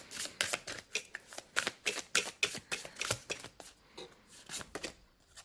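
Tarot cards being shuffled by hand in a series of quick riffling bursts with short pauses between them, close and crisp, with no voices.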